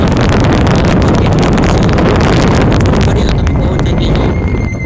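Strong wind near wind turbines buffets the microphone in loud, continuous gusts, roaring and crackling throughout, with no voices over it.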